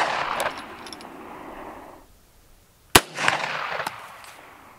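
A 9mm pistol fires a single loud, sharp shot of L-Tech/Shell Shock Technologies ammunition into ballistics gel. The shot stands alone, and quieter handling and rustling sounds come before and after it.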